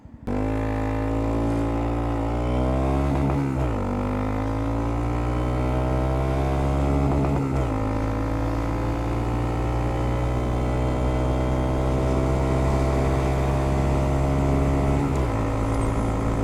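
A Honda Monkey 125 motorcycle pulling away from a standstill in first gear, its small engine revving up hard through several gear changes, each shift dropping the pitch before it climbs again, loud and steady throughout.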